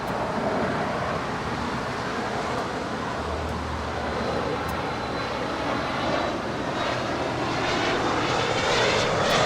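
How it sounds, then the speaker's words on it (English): Air Canada Boeing 737 MAX 8 arriving at LAX, a sustained jet engine roar that swells slightly toward the end, heard alone at moderate distance. "That is Air Canada, Flight 775 coming in from Montreal."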